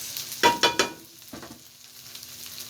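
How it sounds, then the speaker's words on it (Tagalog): Garlic and onion being sautéed in a pan, with a steady sizzle broken by a few sharp bursts of stirring or tossing near the start and a softer one later. "Habang naggigisa tayo nitong bawang at saka sibuyas"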